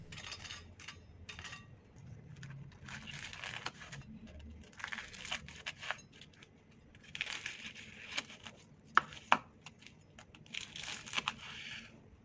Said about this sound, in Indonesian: kalian bisa dengar sendiri kan betapa kriuk dan crispy-nya bistik ayam ini